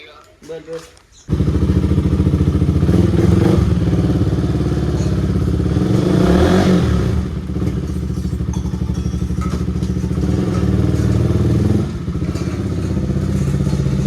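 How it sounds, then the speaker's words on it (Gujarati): A motorbike engine fires up suddenly after a quiet start, then runs loud and steady with a thumping, clattering mid-range drone, dipping briefly near the end before carrying on. "ચાલો હવે આપણે બાઇક લઈને નીકળીએ"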